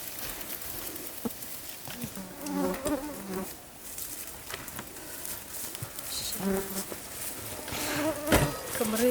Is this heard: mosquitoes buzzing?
yes